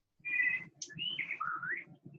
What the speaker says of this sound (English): I hear Stacy's birds